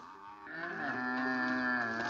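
A single cow lets out one sustained, steady moo that swells slightly, heard close and alone in a 1958 French film.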